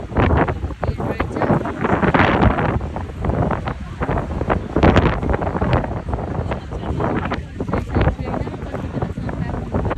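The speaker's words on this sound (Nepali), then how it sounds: "हावा लाग्यो पानी पर्ला जस्तो गरी" Strong wind buffets the microphone outdoors at seaside Enoshima, Japan, while visitors queue for a dolphin show. The gusty roar continues throughout, with people talking under it.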